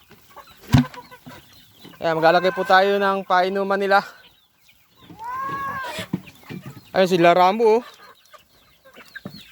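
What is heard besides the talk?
roosters and hens clucking in a farm pen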